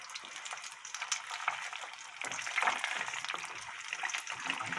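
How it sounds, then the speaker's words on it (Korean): Steady hissing and crackling of oil deep-frying a breaded chicken breast cutlet a second time, close and continuous, swelling slightly midway with no talking. "그래서 다시 이제 이거를 재벌로 튀기는 거예요."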